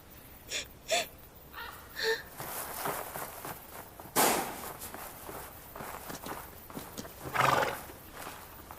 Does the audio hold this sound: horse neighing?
yes